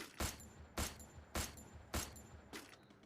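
Gunfire in the Free Fire video game: five sharp shots, evenly spaced and fairly quiet, ring out alone over a faint background.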